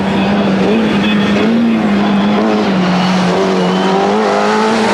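Rally car at speed on a dirt stage at Rally Australia 1994, Langley Park, its engine a steady loud drone with shifting pitch over hard-packed dirt edged with soft sand, continuous and close throughout.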